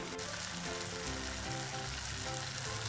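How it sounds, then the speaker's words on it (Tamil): Tomatoes and spices sauté in a pan for a green turkey berry kuzhambu. A steady, dense sizzle with crackling holds for the whole stretch at a close, even level, with no talk over it. "இதெல்லாத்தையும் சேர்த்து நல்லா வதக்கிக்கலாம். தக்காளி நல்லா வதங்கிடுச்சு."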